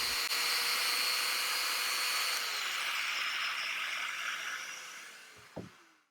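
Domino joiner running on its own, a steady high whine that holds for several seconds before winding down and ending with a small knock.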